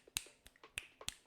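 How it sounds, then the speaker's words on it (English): Four sharp, close finger snaps ring out alone in a quick, fairly even rhythm. "I can snap my fingers."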